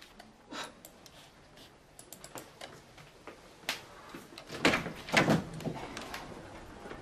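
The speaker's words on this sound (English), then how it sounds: "Please close the door on the way out." A door being closed, heard as scattered clicks and knocks that build to a couple of louder thuds and rattles near the end, in a quiet indoor room with no talk.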